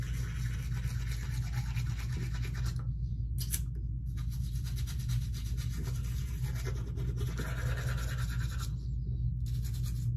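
Brushing teeth with a toothbrush, a steady close scrubbing rub that keeps on without a break and pauses only briefly near the start.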